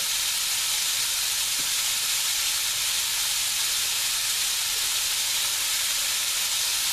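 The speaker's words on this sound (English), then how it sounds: "You just want to sweat these onions down" Chopped onions sweat in a hot pan for a liver and onions dish, giving a steady, loud, even sizzle with a constant hiss and no breaks.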